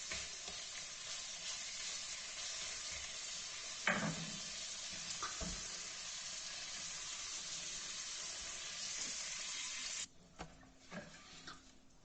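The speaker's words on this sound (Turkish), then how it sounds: "Hemen diğer ciğeri kavurmaya başlayacağız" Liver frying in a pan for Turkish ciğer kavurması, a steady close hiss of sizzling oil that runs evenly for about ten seconds, broken by a couple of stirring knocks, then drops away to quieter scattered sizzles.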